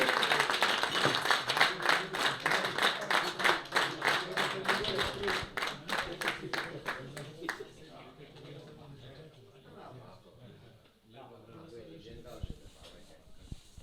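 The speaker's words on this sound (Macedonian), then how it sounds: "Еден голем аплауз за легендата на тетовскиот фудбал, Спирко Маринковски" At a meeting of football veterans from FK Teteks and FK Ljuboten in Tetovo, a crowd claps in steady, rhythmic unison for a local football legend. The clapping fades after several seconds into murmuring and talk.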